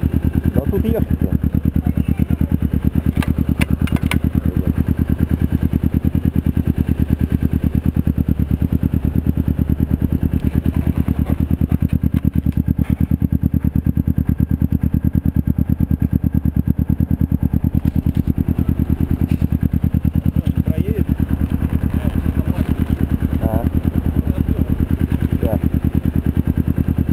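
A small 250 cc motorcycle engine runs steadily nearby, a continuous low throbbing idle lasting the whole time, with people talking over it at moments.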